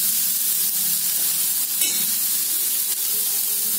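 An adai dosa made with okra and carrot cooks on a pan just after being flipped, giving a loud, dense, constant sizzle with a brief scrape near the middle, close by and without speech.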